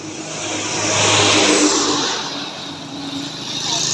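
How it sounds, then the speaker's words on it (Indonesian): A bus heading from Aceh toward Medan passes along a road in the morning, a loud continuous engine and tire roar swelling and easing, with a second vehicle rising behind it. "Itu bus dari arah Aceh kawan-kawan menuju Medan."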